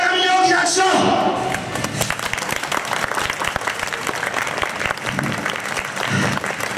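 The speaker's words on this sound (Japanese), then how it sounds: "今度デビューするであろう山上に大きな拍手" An audience at a student pro wrestling show at a university school festival gives loud, sustained applause for a wrestler, dense clapping with a voice talking over the opening moments and the crowd continuing steadily afterward.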